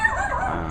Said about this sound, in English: God, I can't get away from yapping dogs